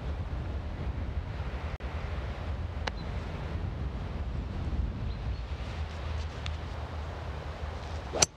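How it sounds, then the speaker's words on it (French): Strong gusting wind buffets the microphone on a high-altitude golf course, a continuous low roar that swells and eases, with a few sharp knocks and a brief click near the end. "en altitude, il y a un vent de malade là, gauche-droite"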